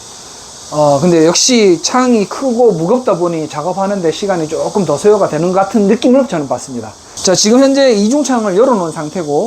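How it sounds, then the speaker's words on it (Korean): A steady high-pitched buzz of cicadas outside an apartment window runs beneath someone speaking close up indoors, continuing through his pauses. "매미 소리가 들리는데"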